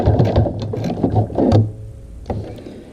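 A sewing machine set to needle-down top stitches an adjustable strap around a curve. It runs in short, close mechanical bursts with brief stops between them, and no voice is heard.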